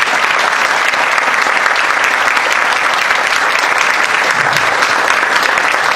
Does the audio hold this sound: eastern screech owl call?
no